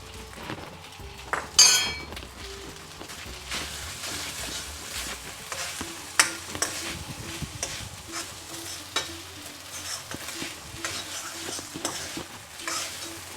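Stir-frying lemon rice with coriander in a wide pan, with steady sizzling and frequent scraping and clinking of a utensil against the metal, plus one louder clatter early on, close and without talk.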